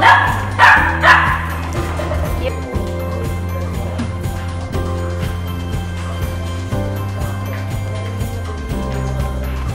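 A Cavalier puppy in a Singapore pet shop gives a few loud, sharp yips and barks at the start, then smaller yelps over a dense, steady background.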